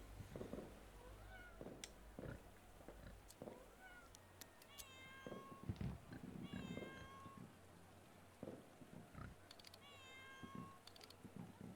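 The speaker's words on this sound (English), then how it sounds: "There is a cat somewhere. I can hear it." Several cat meows ring out over a low ambient rumble and faint patter in a game set in Mexico, 1921, the cries spaced irregularly, some overlapping, moderately near and clear.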